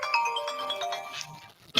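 A mobile phone ringtone plays a bright, tonal melody of repeating synthetic notes for a couple of seconds, fairly loud and close, ending with a short sharp chime.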